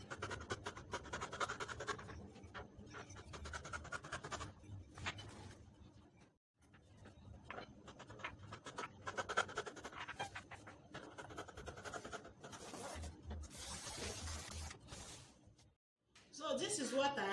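Fabric pieces for an A-line gown with collar being cut out, close irregular scratchy snipping and rustling that runs almost continuously with brief pauses.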